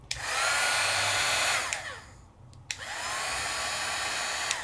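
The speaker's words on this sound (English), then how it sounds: "to heat set them, I'm going to use a Sizzix heat tool" A Sizzix two-speed heat tool blows hot air in a steady, loud broadband whoosh, cut off briefly midway with small clicks as it switches, then running again at full rush.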